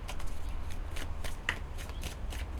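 Tarot cards riffled and shuffled by hand at close range, a rapid papery flutter of overlapping card slaps that continues steadily throughout.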